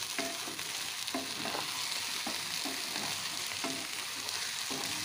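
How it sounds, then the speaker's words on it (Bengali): Poppy seed paste with drumstick flowers frying quietly in a pan, a soft steady sizzle broken by regular scraping strokes of a spatula stirring the mixture, with no talking. "এখন আমি বেশ সুন্দর করে এটা ভেজে নিচ্ছি।"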